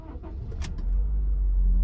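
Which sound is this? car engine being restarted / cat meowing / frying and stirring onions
car engine being restarted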